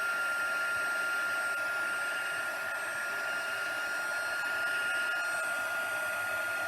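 Heat embossing tool warming up and melting embossing powder, a steady whirring fan blow with a high whining tone, constant and close, no talking over it.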